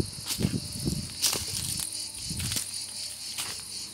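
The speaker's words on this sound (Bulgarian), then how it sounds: "Цикадите, аз преди малко минавах насам, като ме чуят и такова. И спират." Cicadas chirping outdoors near a hotel, a steady high buzzing drone with a few louder pulsing bursts and some low rustling underneath, moderately distant.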